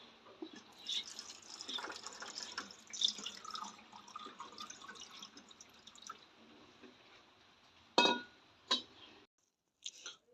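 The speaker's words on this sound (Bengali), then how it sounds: "এই দেখুন শিবের মাথায় জল দিচ্ছি" Water poured over a Shiva idol during home worship, a soft continuous splashing and trickling for several seconds, then a few sharper drips and splashes before it stops.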